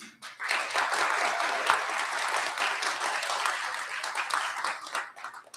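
An audience at a poetry awards ceremony in a hall claps in steady, dense applause that rises quickly and holds for several seconds before tapering off.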